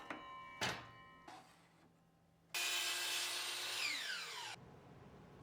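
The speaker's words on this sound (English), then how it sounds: "I set a stop block on my miter saw and cut 2 identical pieces." Miter saw fitted with a stop block slicing through a wooden board: a couple of short motor bursts, then a loud, steady whining cut lasting about two seconds with a falling pitch as the blade spins down, no talk.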